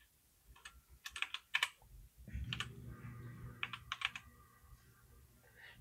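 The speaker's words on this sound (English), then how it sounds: "the first command we're going to type in is net.exe" Keys clacking on a computer keyboard as a command is entered at a Windows command prompt, bursts of quick clicks in short runs with pauses between, fairly close over a low hum.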